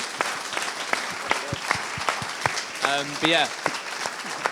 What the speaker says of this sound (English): let's have a round of applause for Ben